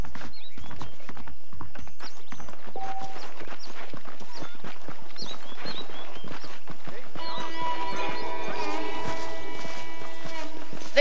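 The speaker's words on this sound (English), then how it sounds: "The horses are saddled up over here." Horses clip-clop in the Red Dead Redemption video game, a steady run of hoof beats on ground; a voice speaks over them and a denser busier stretch comes near the end.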